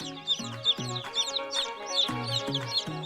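Many baby chicks in a raised brooding cage peep in high, rapid chirps alongside lower clucking as they crowd a feed tray, a busy overlapping chatter close by with no voices.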